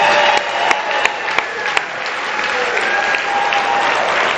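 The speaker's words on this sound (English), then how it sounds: "Let's give them a big round of applause." An audience at an award dinner breaks into dense, sustained applause, many hands clapping together in a steady wash with a few sharper claps standing out near the start.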